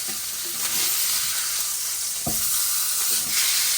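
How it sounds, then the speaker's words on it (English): Deer steak searing on high heat in a cast iron pan, a loud, continuous close-up sizzle and hiss with a brief knock around the middle, no speech. "once your steak's been going for about 2 or 3 minutes on high, you're gonna go ahead and flip them"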